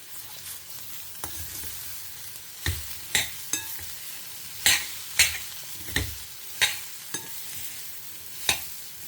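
Food sautés in hot oil in a home kitchen pan, a soft continuous sizzle broken by repeated sharp scrapes and clinks of a spoon stirring against the pot.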